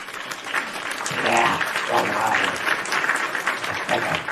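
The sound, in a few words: round of applause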